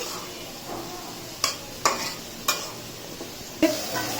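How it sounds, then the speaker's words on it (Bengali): Beef liver being stir-fried bhuna style in a pan, a low steady sizzle broken by four sharp spatula clanks against the metal, close and fairly loud, no voices. "সেটা দিয়ে ভুনা করে কলিজা ভুনা করছি আজকে"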